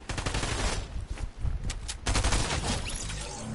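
Rapid automatic gunfire in the Fortnite video game crackles in close, loud bursts, briefly dropping out and then resuming in a sustained volley.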